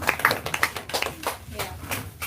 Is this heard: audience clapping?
yes